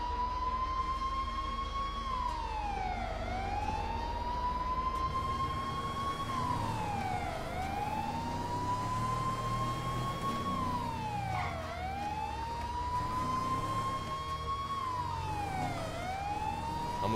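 A police siren in the video game GTA 5 wails continuously in long rising and falling sweeps, loud and steady over a rumbling engine background.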